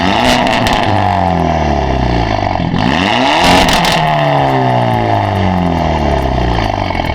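A 2023 Hyundai Elantra N with its exhaust valves open revs hard, a loud, raspy exhaust note rising and falling through repeated sweeps, close and dominant throughout, with no talking.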